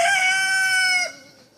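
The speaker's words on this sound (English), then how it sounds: "you hear the other teenage chickens" A single young homestead chicken lets out a loud, close, strained crow lasting about a second, then it trails off into quiet.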